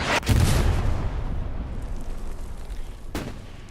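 Artillery fire in the WWII shooter game Hell Let Loose: a heavy booming blast opens, rolling into a long rumbling decay, with a second sharp impact near the end, loud and close.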